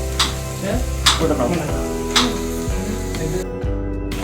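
Crab pieces are stirred and sautéed in a hot pan, giving a steady loud sizzle with repeated scraping strokes of a spatula, close up.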